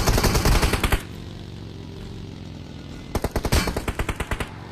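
Automatic weapon fire in PUBG gameplay, a loud rapid burst of shots, a pause of about two seconds, then a second sustained burst, close and dominant.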